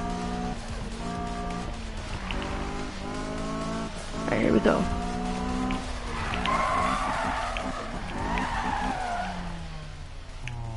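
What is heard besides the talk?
Mazda Miata tires skidding while drifting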